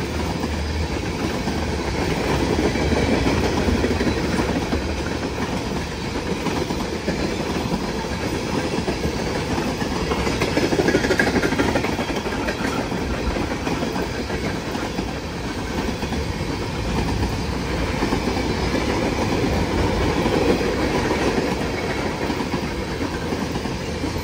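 A long freight train rolls steadily past close by, its loud continuous rumble and rail noise holding for the whole stretch with faint clickety-clack from the cars and no talk.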